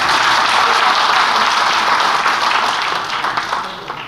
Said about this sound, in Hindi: तालियों से बताइए।